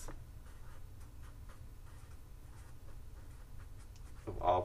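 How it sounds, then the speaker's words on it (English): A pen or pencil scratches across paper in short, repeated strokes, writing out a college algebra answer at a steady pace, fairly close and quiet, with a slightly louder knock near the end. "So I'm going to write no if there are two points with the same x."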